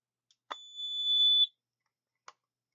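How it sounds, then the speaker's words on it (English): A camper's carbon monoxide detector gives a single shrill electronic test beep lasting about a second, framed by faint plastic clicks of handling in an otherwise silent room. "Now you heard it tests, it beeped, it's good to go."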